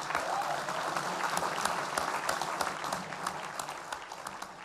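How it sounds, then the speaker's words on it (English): A room of scientists and staff at JPL bursts into sustained applause after a consensus on a Saturn mission tour, the dense clapping peaking early and gradually tapering off. "Applause."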